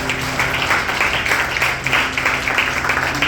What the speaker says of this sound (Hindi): मोहिनी के लिए ताली बजा दो जोरदार